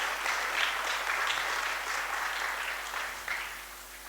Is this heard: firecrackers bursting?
no